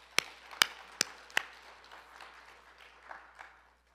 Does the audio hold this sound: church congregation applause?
yes